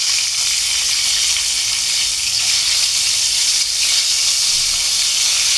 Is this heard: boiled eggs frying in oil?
yes